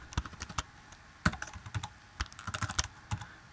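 Java code typed into Eclipse on a computer keyboard gives quiet, irregular key clicks, some in quick clusters and a few louder taps.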